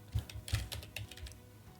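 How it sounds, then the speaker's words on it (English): Computer keyboard typing, a run of quick irregular keystrokes at close range with a couple of heavier thumps near the start, no voices. "let's type properly, shall we?"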